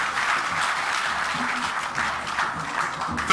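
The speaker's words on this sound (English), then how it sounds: "He deserves another round of applause." Applause during a courtesy call by the Black Stars team on President Akufo-Addo, a steady wash of many people clapping in a room, even and moderately loud across the whole stretch without speech.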